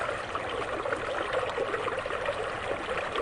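Adobe Creek flows under a wooden bridge on the path to the Petaluma Adobe in Northern California, a steady, full trickling rush of water that holds constant throughout, with no voices.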